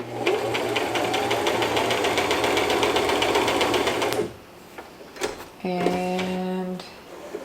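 A Brother LX3817 sewing machine runs a 2.5 mm straight stitch in a fast, even mechanical rattle for about four seconds, then stops, followed by a few clicks and a short whirring of the mechanism.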